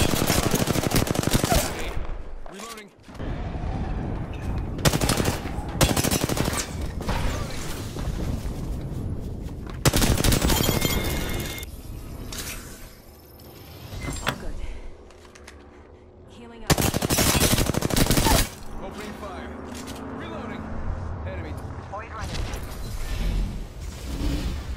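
Video game gunfire: repeated loud automatic bursts, close and punchy, separated by quieter gaps with mechanical clicks and whooshes, and talking between the volleys.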